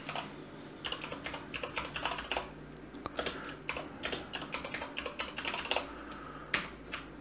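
Code for a SolidWorks macro is typed on a computer keyboard in quick, irregular bursts of crisp, close key clicks, broken by short pauses, with no talking.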